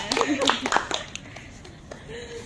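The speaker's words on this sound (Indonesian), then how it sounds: "Oke, tepuk tangan semuanya." Members of a student group counseling session clap their hands together in a brief burst of sharp claps that fades within about a second, with voices talking.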